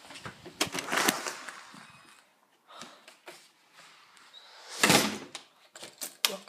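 A house's main entrance door opens and closes, with a cluster of knocks and clatters at the start and a louder thud partway through, close and fairly loud, with no talking.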